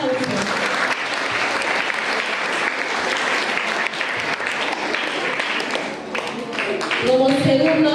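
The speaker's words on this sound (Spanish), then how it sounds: "Arista Tejada Luz Mercedes, a quien recibimos con fuertes aplausos." Loud, continuous applause from an audience at an essay and speech contest, many hands clapping steadily for the whole stretch before easing slightly near the end.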